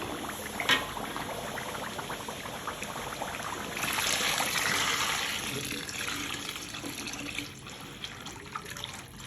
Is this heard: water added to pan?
yes